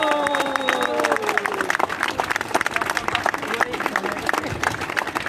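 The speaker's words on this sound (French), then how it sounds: "Veuillez applaudir ces personnes s'il vous plaît." A crowd at a regularisation rally in Rennes breaks into dense applause that continues throughout, with a few cheers and a brief voice at the start.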